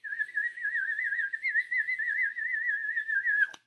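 A sustained, warbling high whistle wavers rapidly for over three seconds, ending abruptly with a brief sharp click.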